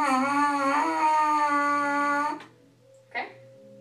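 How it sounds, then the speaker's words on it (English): Lips buzz into a brass instrument mouthpiece, giving a steady, reedy tone for about two seconds before it stops and a short faint sound follows. "you're gonna buzz into the mouthpiece"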